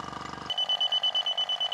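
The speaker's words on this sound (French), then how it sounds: "Donc là je mets le détecteur sur la pompe à vide" A refrigerant leak detector held at a vacuum pump on a Supra Blizair 3900 air conditioner beeps rapidly and evenly, a high steady chirp after a brief burst of buzzing, near and clear.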